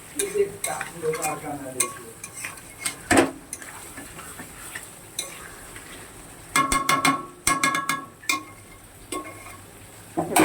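Crab curry stir-fries in a pan with a continuous sizzle under bursts of spatula scraping and metallic clinks against the pan, close and fairly loud, with no talking.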